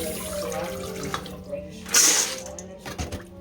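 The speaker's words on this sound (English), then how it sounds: "you can rinse, strain the water. I usually wash my peas like 2 times." Dried peas for Jamaican stew peas are rinsed and swished in water in a kitchen, with a running tap, splashing and a louder pour near the middle, close by.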